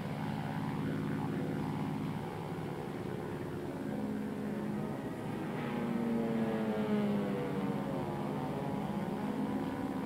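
World War II propeller-driven carrier planes, setting off to strafe a Japanese-held island with napalm and gunfire, drone steadily overhead, a low engine hum that swells and shifts in pitch as they pass, fairly faint and distant, with no voices.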